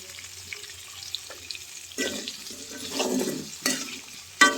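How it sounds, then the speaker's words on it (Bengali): Cauliflower and potato curry with turmeric, chopped chilli and salt being stirred and sautéed in a pan: a faint sizzle runs throughout as a spatula scrapes in short bursts, with a sharp clink near the end. "ভালোভাবে নেড়ে চিড়ে কিছুক্ষণ কষিয়ে নিব"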